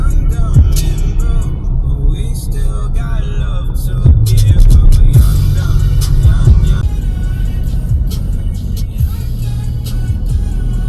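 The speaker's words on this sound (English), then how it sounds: "Balibago again, traffic, always traffic." Dense city street traffic in Balibago, Angeles City: a steady low rumble of nearby cars and engines with passing vehicle noise and a brief louder surge midway, continuous throughout with faint voices mixed in.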